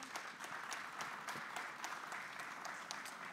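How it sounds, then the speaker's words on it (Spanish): A conference audience at a technical training session on fiber-to-the-home networks applauds to welcome a speaker, a faint, steady, fairly distant clatter of many hands clapping. "Bienvenido, Jonás. Fuerte aplauso."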